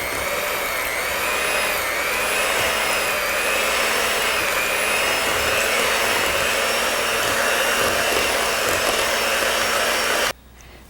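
An electric mixer whips a no-bake cheesecake mixture on high with a loud, steady, whining motor drone that holds for about ten seconds, then cuts off abruptly.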